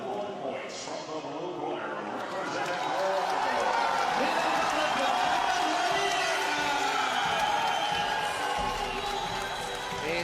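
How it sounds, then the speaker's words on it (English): Moroccan fans cheer at a boxing bout, a dense crowd roar holding steady throughout with voices mixed in. "It's the Moroccan fans who are cheering."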